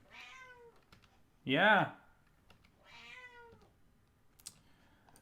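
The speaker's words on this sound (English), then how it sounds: "My cat is very vocal." A pet cat playing with tissue paper gives one loud, drawn-out meow in the middle, with a person talking quietly before and after it.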